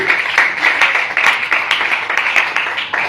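Church congregation clapping and cheering for the word of God, a close, loud round of uneven hand claps with brief cheers mixed in, pulsing irregularly.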